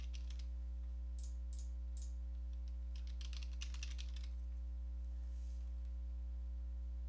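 Quick bursts of typing on a computer keyboard, soft clicky keystrokes clustered in short runs over a steady electrical hum, with no talking.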